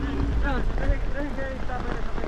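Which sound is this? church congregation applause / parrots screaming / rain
rain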